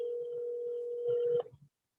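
A telephone gives a single steady dial tone, faint and continuous, over soft background murmurs, then cuts off abruptly.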